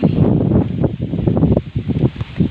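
Steady wind blowing across the microphone, a low rumbling buffet with gusts rising and falling, loud and close throughout.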